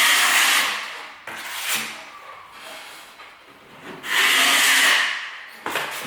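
A trowel smoothing filler over a ceiling crack makes a broad, rasping scrape sweeping back and forth in long strokes, pausing briefly between passes, steady and close, with no talking.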